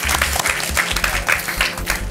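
Applause from a studio audience on a French game show, a steady burst of clapping that fills the whole moment, with some crowd murmur and a voice faintly underneath.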